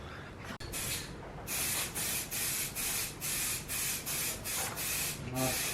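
Primer sprayed from an aerosol can onto a sanded BMW E36 spoiler during a big LTW wing install, in about nine steady hissing bursts of roughly half a second each, close and loud, preceded by a sharp click and with no talk.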